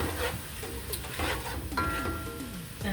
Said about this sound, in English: And I'm gonna give this another saute for about just 1 minute. Give that a little mix there.